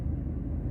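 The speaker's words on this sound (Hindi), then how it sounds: "एसी चल रहा है तो इसकी हमिंग मुझे सुनाई दे रही है।" Low steady hum of a car air conditioner running inside a parked car with the engine on, a faint even drone over a very short stretch.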